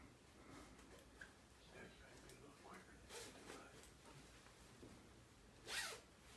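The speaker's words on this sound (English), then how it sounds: "we just zip her up." Zipping a baby's Halo sleep sack closed makes a faint, quick rasp close by, followed by a louder zip toward the end, over soft room noise.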